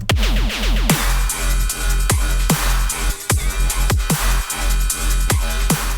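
Deep electronic bass swells pulse under punchy drum hits in a steady, driving rhythm, loud and upfront with no talking.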